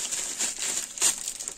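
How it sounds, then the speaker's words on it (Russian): A plastic garbage bag crumpled up close, giving a short burst of bright crinkling with one louder scrunch near the end. "И мусорный пакет отправляется под мусор."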